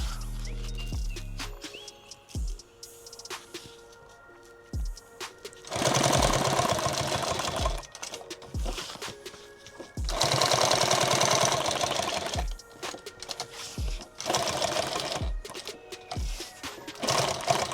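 Sewing machine stitching printed Velcro, loud bursts of rapid mechanical stitching separated by pauses and short thumps, close up with no talking.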